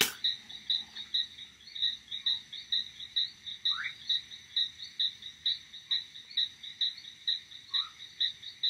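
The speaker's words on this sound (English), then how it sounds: "your senses tuned in to the sound of the jungle" Jungle night ambience with a rhythmic, pulsing chorus of frogs and crickets repeating steadily at a fast even pace, plus occasional separate croaks and chirps, moderately faint with no voices.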